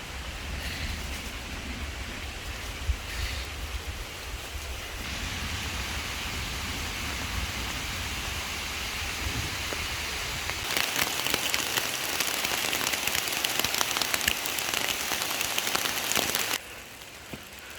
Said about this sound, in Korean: 소나기 겁나